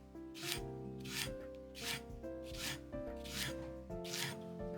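A knife cuts Japanese leek diagonally on a cutting board: a steady series of about half a dozen soft, evenly spaced chops, heard under sustained background music.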